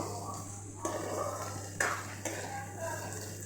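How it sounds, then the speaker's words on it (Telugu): A spoon scrapes and clinks against a pan while ridge gourd chutney is stirred, giving a few soft knocks over a steady low hum as someone speaks quietly. "మధ్య మధ్యలో కలుపుకుంటూ ఉండాలి."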